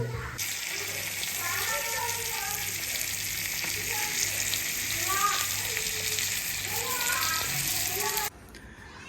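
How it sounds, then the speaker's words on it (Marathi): Fish, pomfret among it, fries in a pan with a steady, close sizzling hiss that runs for about eight seconds while people talk over it. "थांब एक सरगुटा फ्राय होते"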